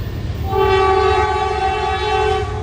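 A loud train horn blares one long steady tone for about two seconds over the deep rumble of a passing train at Chesterton/Porter, Indiana.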